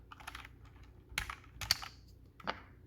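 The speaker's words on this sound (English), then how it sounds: "let me take off the spacebar." Quiet plastic clicks and snaps as the spacebar keycap is pried off a Razer BlackWidow V3 Mini keyboard, a few sharp taps spread over a couple of seconds.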